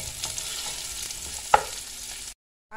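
Kikiam, onion, garlic and meat stir-fry in hot oil with a steady close sizzle, a sharp utensil clack partway through, and then the sound cuts off abruptly.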